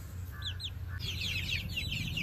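Young chicks in a coop, pecking at one another, give a run of high, thin chirps and peeps, some paired and some in quick flurries, over a steady low hum.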